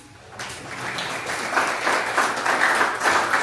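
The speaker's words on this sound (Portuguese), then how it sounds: "as palmas louvam o nome do Senhor Jesus" Church congregation clapping during a worship service, a broad steady wash of many hands that swells and holds through the short stretch, with no voices standing out.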